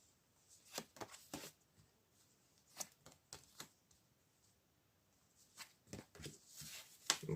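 Tarot cards being handled and drawn during a reading, heard as a scattered series of soft, quiet papery flicks and snaps, some in short clusters, separated by near silence.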